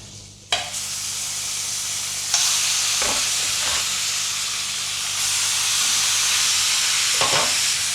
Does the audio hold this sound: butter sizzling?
yes